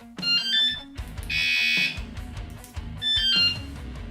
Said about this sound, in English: I got a car alarm.